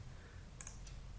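Two quick, faint computer mouse clicks close together, followed by a softer third click, over a steady low room hum while working in CNC milling software.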